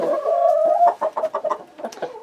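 Chickens clucking close by, a short run of choppy, uneven clucks with a rooster-like drawn-out call at the start.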